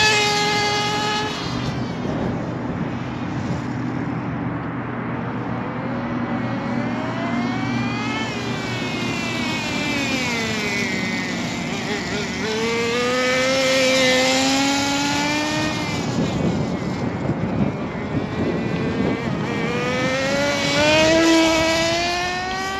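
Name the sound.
HPI RS4 nitro RC car engine revving and idling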